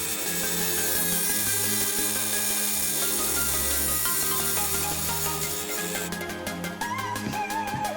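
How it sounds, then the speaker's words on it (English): A cutoff wheel grinds steadily through a universal impact socket on a kitchen table, a continuous loud abrasive whine with a broad hiss, the pitch wavering and picking up a faint rhythmic chatter near the end. "keep our hands well out of the way of this cutoff wheel"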